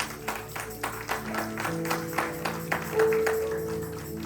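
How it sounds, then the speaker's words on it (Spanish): Applause during a church worship service: a steady patter of hands clapping together from a congregation, with sharper individual claps standing out over a faint sustained tone near the end. "Vamos a darle un fuerte aplauso al Padre, al Hijo y al Espíritu Santo"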